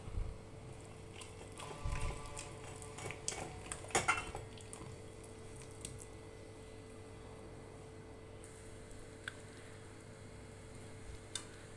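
Ragi flour batter stirred by hand in a bowl for bitter gourd pakoda: a spoon scrapes and clinks against the bowl at intervals, busiest early on and then sparser, quiet and close, with no voices.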